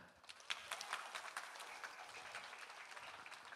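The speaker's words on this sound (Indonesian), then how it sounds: "Tepuk tangannya mana?" Crowd applause at an outdoor Islamic religious gathering in Manyar Sabrangan, Surabaya: dense, fairly faint clapping from many hands, steady for a few seconds with no talk over it.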